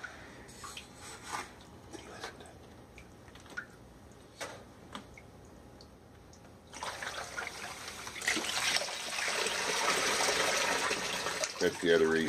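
Water running off a gold sluice in a basement test setup, a steady trickling and splashing that swells into a louder rushing flow in the second half.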